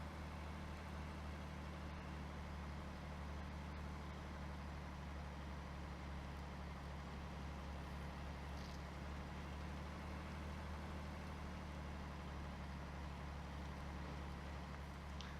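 Heavy off-road truck engines in the MudRunner video game, American Wilds Grizzly Creek map, droning low and steady for the whole stretch with a constant rumbling hum and no talk.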